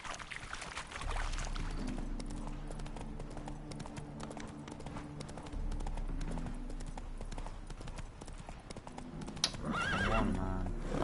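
Hooves clop steadily from a horse in The Witcher 3 game, with whinnies and snorts over a low ambient drone, then a louder burst of neighing near the end.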